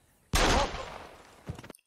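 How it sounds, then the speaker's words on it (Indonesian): A single loud pistol gunshot cracks sharply, then its echo decays over about a second, and a smaller impact follows near the end. "Lalu dia mengambil sebuah pistol dan bunuh diri di depan prajurit Perancis."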